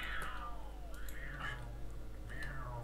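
Cats in Minecraft meow three times in a row, moderately loud over a steady low game hum, with no talking.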